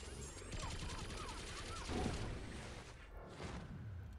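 Rapid gunfire volleys and booms from a special attack in Marvel Contest of Champions, a busy burst of shots with whooshing effects and game noise.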